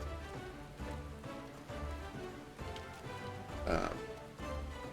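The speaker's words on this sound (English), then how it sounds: "it started raining while we were talking" Rain falls outside a house as a soft, steady patter heard from indoors, faint and even throughout with a brief louder swell near the end.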